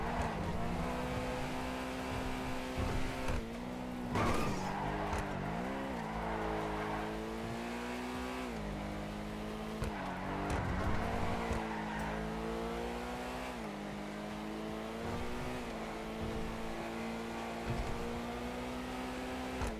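A car engine in a street racing video game revs continuously, rising and falling in pitch with gear changes, loud and close throughout.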